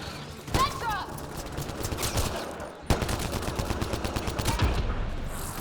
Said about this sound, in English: Shooting my friends.